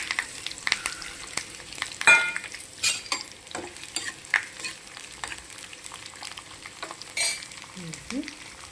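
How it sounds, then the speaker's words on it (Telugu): Onions and curry leaves frying in a kadai, a close, steady sizzle broken by repeated scraping and clinking strokes of a stirring spoon, moderately loud throughout, with no speech. "స్టవ్ మీద కడాయి పెట్టుకొని దానిలో ఉల్లిపాయలు,"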